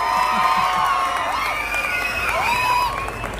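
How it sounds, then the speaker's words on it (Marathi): Crowd at a district-level dance competition during a Navratri festival in Kolhar Bhagwatipur cheers, whoops and shouts steadily, with children's voices rising over a loud, continuous roar and some clapping underneath. "टाळ्या."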